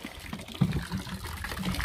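Water runs into a box for rinsing during maintenance on an excavator, a steady low pour and trickle that rises briefly partway through, fairly faint and heard alone.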